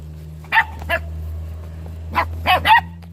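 Homeless puppies in Jordan yip and bark in a few sharp, high bursts: two close together early on, then a quick cluster of three near the end, over a steady low hum.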